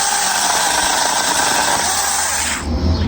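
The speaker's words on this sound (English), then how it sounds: "it's what you would expect with a chainsaw" Chainsaw running steadily as it cuts through a thick bonsai trunk, a loud continuous engine whine with a shift in tone near the end as the blade clears the wood.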